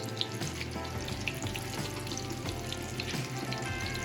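Shrimp frying in hot oil for a shrimp parm hero, a steady close crackling sizzle with small pops running throughout and no talk.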